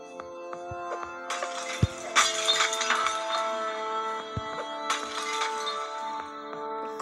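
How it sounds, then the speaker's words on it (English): Glass shattering in the video game Smash Hit, several sharp crashes and tinkling breaks over a sustained musical tone, with bright bursts spaced a few seconds apart. "Glass broke my way."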